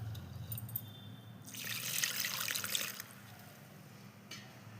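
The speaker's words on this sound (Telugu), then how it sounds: "వాటర్ పోస్తున్నాను." Water poured into rice flour for sakinalu dough, a soft trickling splash that swells in the middle and then fades, quiet and close with no talk.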